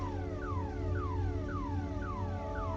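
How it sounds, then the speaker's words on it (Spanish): A cockpit warning alarm in a Cessna in Microsoft Flight Simulator sounds as a steady string of repeated falling electronic tones, about two per second. It plays continuously over a low engine hum, with no talking. "No tengo ni idea de cómo se quita la alarma esta"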